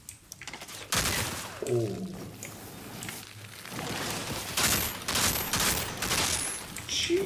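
Weapon fire in the Outriders video game, a dense burst of shots filling most of the stretch with sustained crackling intensity, loud and close, with a brief exclamation from a player partway through.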